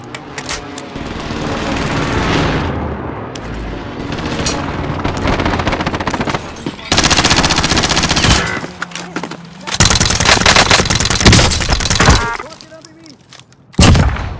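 Rapid automatic gunfire and explosions from the video game Warzone, loud and dense, coming in bursts with short pauses, while a player shouts excitedly in Portuguese over the shooting.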